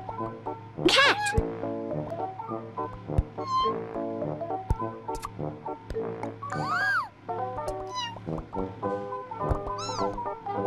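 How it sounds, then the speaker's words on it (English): A cartoon cat meows in the Sago Mini School pet-care game for kids, rising and falling calls standing out over bright, busy game music and chimes. "Cat."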